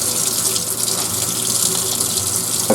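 Tap water runs steadily into a sink while turkey wing bones are scraped and rinsed clean to build a wing-bone call, a close, continuous splashing gush with no talking.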